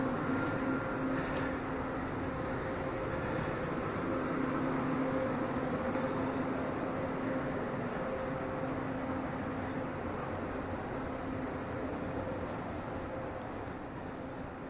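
A steady low rumbling drone of an Ivolga electric commuter train in motion, from Moscow's Belorussky station toward Usovo, with a faint hum running through it, heard from inside a carriage for a long stretch.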